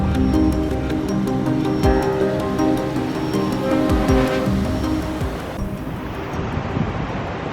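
Ocean surf on the beach at Kwass campsite on the chilly Atlantic coast, a steady broadband wash of breaking waves with wind noise buffeting the microphone throughout, no voices.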